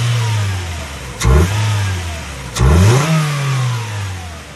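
A Honda Civic's engine revs outdoors in two sharp bursts, each rising and falling back to a steady mid-pitched idle; close and fairly loud, with no talking.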